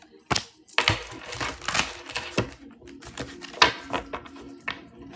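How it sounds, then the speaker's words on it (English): A deck of cards is shuffled up close, with rapid papery riffles and soft slaps in irregular bursts and no voices. "I'm going to shuffle right in front of you guys."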